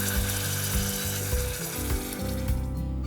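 Tomato puree hits a hot pan of spices and garam masala, giving a loud, close, continuous sizzle with shifting bubbling tones and some stirring scrapes, no voices.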